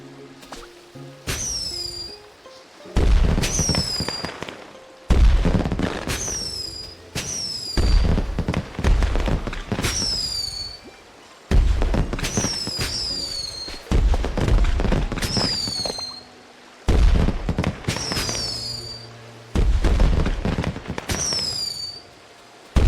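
Small homemade fireworks launch one after another in quick bursts, each a whoosh and whistle followed by a pop, repeating in clusters with short pauses between, thirty shots in all.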